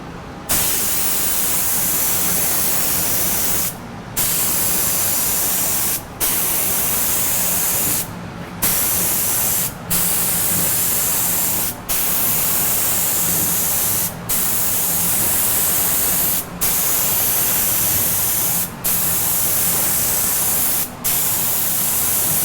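A compressor-fed paint sprayer hisses in long, loud, steady bursts of spray, broken by about nine short pauses where the trigger is released, used while refinishing a dinette in a camper remodel.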